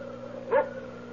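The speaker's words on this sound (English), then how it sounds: "That barking dog." A single short dog bark heard outdoors near a hillside vault in a radio drama, one sharp bark in the middle over a low steady background hum.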